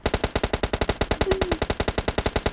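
Gunfire in PUBG Mobile Lite, heard as a rapid, even burst of about ten loud, close shots per second that runs without a break for under three seconds.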